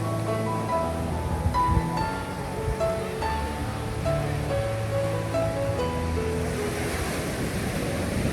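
Ocean surf rolls steadily onto the beach at Cox's Bazar at sunset, a constant wash of breaking waves under prominent melodic music, with no speech.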